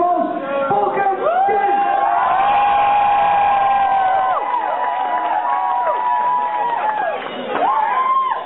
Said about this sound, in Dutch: Geef ze applaus!